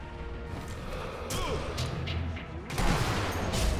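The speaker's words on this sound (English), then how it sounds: "they're still shooting at one another" Gunfire in Sniper Elite V2 crackles in bursts of sharp, rapid shots as enemies exchange fire, with a heavier crash near the end, set against a dense, noisy background.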